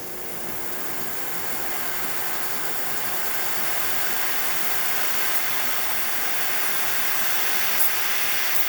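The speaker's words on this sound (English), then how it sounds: "you're gonna see some steam coming out through the horn" A Breville espresso machine vents steam through its group head after reaching temperature, a steady broadband hiss held at even loudness throughout, close and unbroken.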